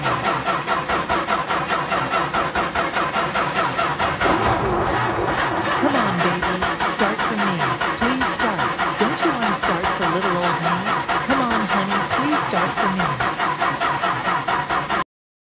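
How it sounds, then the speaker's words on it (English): A flooded car engine cranks repeatedly with rapid, rhythmic starter churning, sputtering and catching in uneven bursts as it struggles to start, loud and close throughout. "Sometimes when I crank my car's engine, it seems to flood from all the pumping I do."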